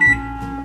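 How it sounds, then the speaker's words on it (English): A kitchen timer in a cooking video game gives a short bright electronic beep, followed by a sustained buzzy tone that fades slightly, all close and clear. "now the timer is finished"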